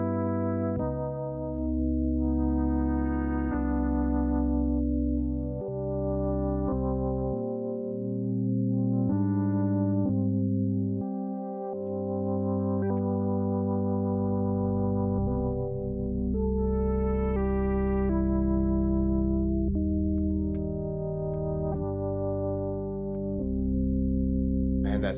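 A sustained PWM Mantis synthesizer sine wave with rich additive stacked harmonics, shifting pitch in a slow melodic line, loud and steady with no talking.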